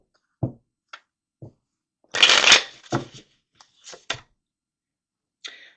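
Tarot cards being shuffled by hand, close and clear, with a few soft taps and slides and one brisk riffling burst in the middle, no talking.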